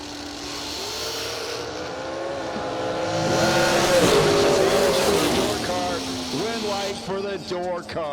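A door car makes a drag racing pass at the Colonial Classic drag event. The engine roar builds and peaks mid-run, then fades, with an announcer talking over it.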